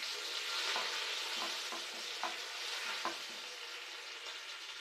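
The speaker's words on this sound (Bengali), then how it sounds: "সর্ষেটা ফুটে উঠলে আমি এখন কটা কারি পাতা এর মধ্যে দিয়ে দেব।" Mustard seeds and curry leaves frying in hot oil in a pan, a steady close sizzle broken by occasional soft stirring taps and seed pops, with no voices.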